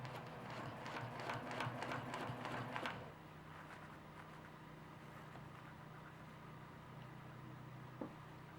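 Sewing machine stitching a row of a quilt, its fast rhythmic needle chatter running steadily for about three seconds before stopping, leaving a low background hum.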